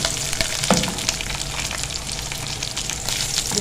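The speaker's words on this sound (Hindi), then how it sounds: "इसको हमने थोड़ा सा फ्राई करना है।" Green chillies slit down the centre frying in hot oil, a continuous close, loud sizzle with small crackles and one sharper pop.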